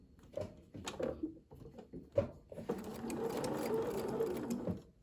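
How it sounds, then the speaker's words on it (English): A sewing machine stitches a sawblade star quilt block with a steady whirring run for the second half, preceded by short bursts and clicks, close and moderately loud. "I'm sewing almost to the pins."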